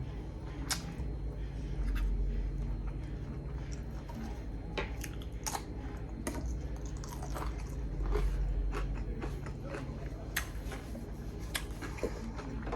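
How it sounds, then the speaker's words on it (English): Someone chewing crispy bacon and cheesy eggs, close crunchy bites and wet chewing in an irregular rhythm, fairly quiet, with no talking. "let me get a couple more bites"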